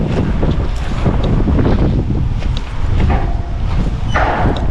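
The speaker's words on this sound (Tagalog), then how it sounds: "ang lalakas ng hangin" Strong wind gusts across a terrace, roaring continuously into the microphone as loud, rumbling buffeting that barely eases for the whole moment, with no speech.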